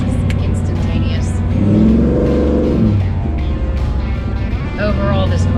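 A blacked-out Wagoneer SUV accelerates on the gas, its engine swelling into a brief louder surge mid-clip before settling back to a steady drone, with a voice talking over the motor.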